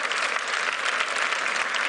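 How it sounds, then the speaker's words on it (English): Audience at the Filmfare awards clapping in a dense, sustained burst of applause that fills the whole moment evenly. "So big round of applause."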